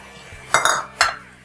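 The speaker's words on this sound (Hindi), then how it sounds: "इसमें डाल देंगे अब हम ये वेजिटेबल्स, पहले प्याज, शिमला मिर्च" Onion and capsicum dropped into a pan of frying chicken for chow mein: two or three close metallic clinks and clatters of utensil against pan in quick succession, brief and moderately loud.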